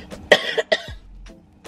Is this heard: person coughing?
yes